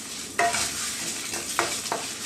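Chana dal, coriander seeds, dried chili, cumin and fenugreek are dry-roasted and stirred in a pan for sambar powder, giving soft scraping stirs and a light sizzle, with a few brisk spoon strokes.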